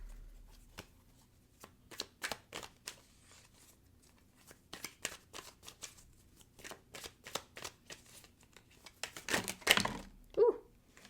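Tarot cards are shuffled and drawn, with a run of crisp flicks and riffles in quick bursts, denser near the end. Nobody speaks.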